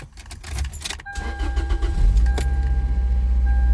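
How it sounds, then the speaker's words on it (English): A Toyota van's engine cranks and catches near the start, then settles into a steady, loud idle with a faint high whine, after a brief jangle of keys. "Start vehicle engine."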